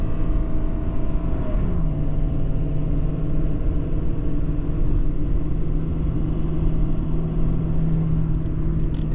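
A 2017 Ford F-550 Powerstroke truck drives steadily, its low engine rumble and road noise continuous and close throughout, with a slight shift in engine tone early on.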